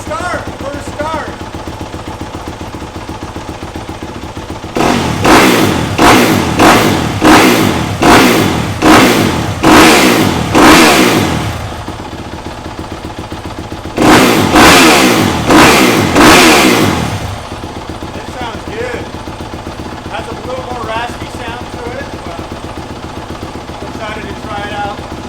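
A 2021 Yamaha YZ250FX dirt bike with an FMF Factory 4.1 RCT aluminum silencer and carbon end cap idles, then gets two runs of sharp, repeated throttle blips, each falling back to a steady idle, loud and close.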